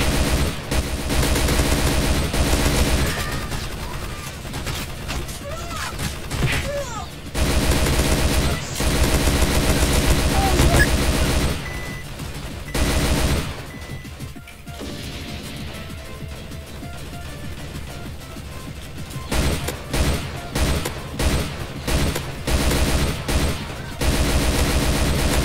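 Video game gunfire as soldiers come under attack: dense bursts of rapid automatic shots and rattling volleys, loud and close, arriving in repeated clusters with brief lulls between them.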